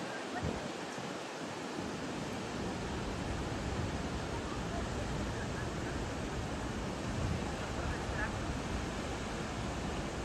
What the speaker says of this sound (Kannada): ನೀರು ನೀವು ನ್ಯಾಚುರಲಾಗಿ ನೋಡಲಿ ಅಂತೇಳಿ ನಾನು ಏನು ಮಾತಾಡ್ತಿಲ್ಲ ನೋಡಿರಿ ನೀರು ಎಷ್ಟು ಚಂದ ಅಷ್ಟು ಚಂದ ಬೀಳಾಕತ್ತೈತಿ